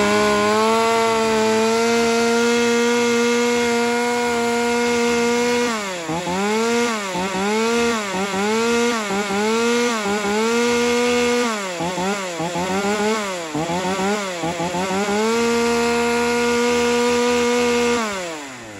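A Japanese chainsaw engine runs steadily at close range, its pitch rising and falling repeatedly as the throttle is revved, then settling back to a steady idle.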